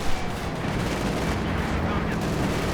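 Tank cannon fire in Company of Heroes 2 as a KV-1 and a Panzer IV trade shots, a steady barrage of heavy gunfire with a sharp opening report and continuous low rumble beneath.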